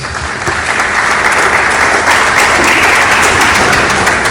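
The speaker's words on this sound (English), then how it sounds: "I think he deserves an applause." An audience at a University of Ibadan lecture breaks into loud, sustained applause that fills the hall evenly throughout.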